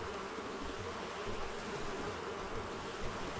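A swarm of bees buzzes steadily in the video game Animal Crossing: New Horizons, a continuous droning hum at moderate volume with no talking over it.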